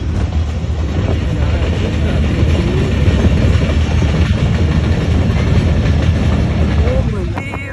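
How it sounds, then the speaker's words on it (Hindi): A train rolling past a closed level crossing in a village, a loud close rumble with rhythmic wheel clatter that continues steadily, a voice audible over it. "रास्ता ही बंद है क्योंकि ट्रेन आ रही है भाई"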